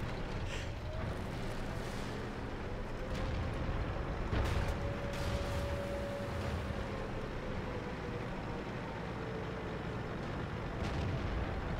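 Tank cannons fire in the World of Tanks video game. A few muffled booms cut through a continuous loud rumble of engines and battle noise.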